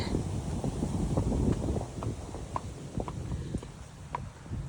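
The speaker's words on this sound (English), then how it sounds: "Quite windy today. It's quite warm but quite windy" Steady, warm wind buffets the microphone throughout while out hacking with a horse, with hoof clops and scattered footsteps sounding close by.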